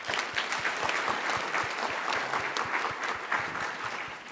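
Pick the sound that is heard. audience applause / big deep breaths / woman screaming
audience applause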